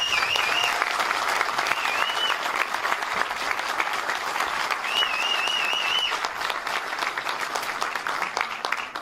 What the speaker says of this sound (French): Merci d'applaudir Ange Basterga.